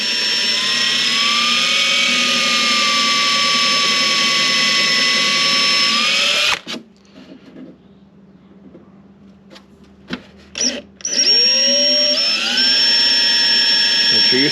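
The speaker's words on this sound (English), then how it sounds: "Let the drill do the work." Corded power drill boring holes in wood for an RV kitchen drawer repair, a loud steady high whine that runs continuously, cuts off abruptly, then restarts after a pause with a few faint knocks in between.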